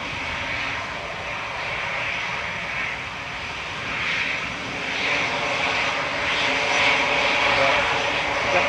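A Loganair aircraft arriving at Manchester Airport, its engines a broad steady roar at moderate distance that swells slightly toward the end, heard alone without talk.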